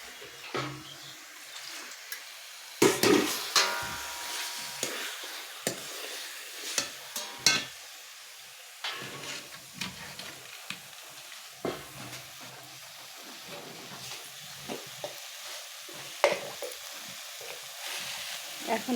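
Taro leaves cook over heat with a soft background sizzle, while a utensil stirs and clacks against the pan in irregular knocks and scrapes, moderately close, and a voice is faintly present at times.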